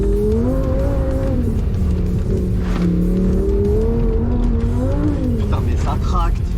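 A Lamborghini pulls hard at full throttle, its engine note rising steadily and loud from inside the car, with gear changes dipping and climbing the pitch while people talk over the roar.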